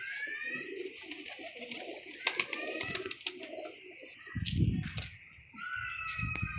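Pigeons coo softly in low murmuring bursts, close by, along with sharper chirps and clicks from other birds and occasional rustling.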